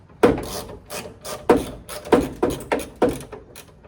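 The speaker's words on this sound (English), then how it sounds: "Got 7/16 for the latch. Just to break them loose first." A 7/16 wrench works rusty latch bolts loose on a classic Mustang trunk, giving about nine rhythmic, close grinding ratchet-like strokes, each a short raspy scrape, with no talk.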